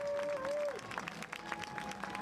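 Audience applause at a high school football game at Brook Hill, a dense wash of clapping from the stands over a steady crowd rumble, with a sustained whistle-like tone at the start.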